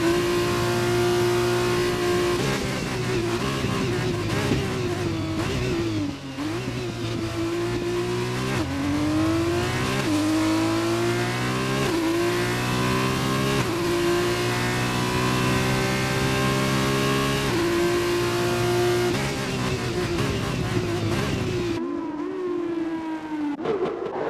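Race car engines roar during an Austrian GP round in the rFactor 2 racing game, rising and falling through repeated revs and gear shifts, loud and continuous, cutting off near the end.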